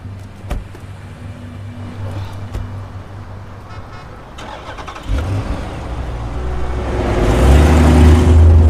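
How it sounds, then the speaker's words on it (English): A car engine cranks and catches, rising into a steady, louder idle and rev toward the end, heard up close inside a film scene with a faint background hum before it starts. "Start the car, get the heat going."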